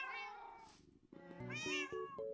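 A cat meows in Minecraft, giving a short plaintive mew followed by a longer wavering meow, clear and close with no talking.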